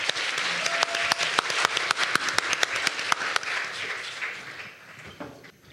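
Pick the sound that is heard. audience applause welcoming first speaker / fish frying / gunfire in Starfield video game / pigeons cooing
audience applause welcoming first speaker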